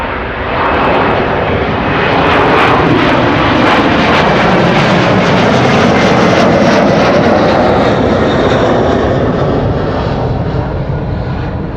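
A jet airliner, nine years old with a first flight in October 2015, departs Amsterdam Schiphol with a loud, close, sustained engine roar that swells slightly toward the middle and stays powerful to the end, with no voices.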